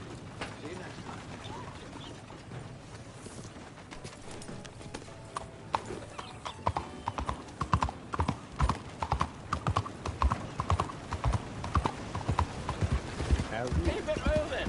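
Horse hooves clip-clop in Red Dead Online, starting quietly and building into a loud, rapid galloping rhythm of sharp impacts, with a voice speaking faintly early on.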